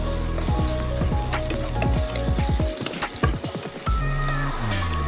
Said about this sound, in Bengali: এক টেবিল চামচ হলুদ গুঁড়ো দিয়ে এটাকে ভালোভাবে ভেজে নেবো